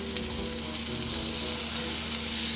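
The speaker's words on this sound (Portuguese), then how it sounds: "Agora adiciono os talos de salsão picados à frigideira e refogo por mais alguns minutinhos para amolecer" Chopped celery stalks sautéing in a frying pan, a dense continuous sizzle that holds steady and fairly loud with no one speaking.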